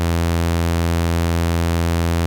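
Sawtooth wave test tone played through a laptop speaker, a steady buzzy drone with dense even harmonics, loud and unbroken throughout.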